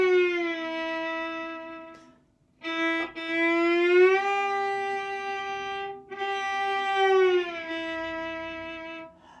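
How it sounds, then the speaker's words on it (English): A violin note slides continuously between pitches as a finger shifts along the string from G down to E, a bowed, sustained tone with a brief break partway through, played alone and close. "We want to hear that slide the whole time."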